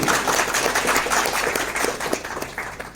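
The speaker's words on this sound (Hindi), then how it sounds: "तो ऐसे हमारे भाई आरपी सिंह के लिए एक बार जोरदार तालियां हो जानी चाहिए।" Loud audience applause at a diagnostic centre event, dense rapid clapping from many hands, close and continuous throughout, with no speech over it.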